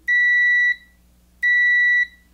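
A ZOTEK digital handheld automotive multimeter gives two loud, steady electronic beeps during a continuity test, each lasting about two-thirds of a second, with a short pause between them and nothing else around them.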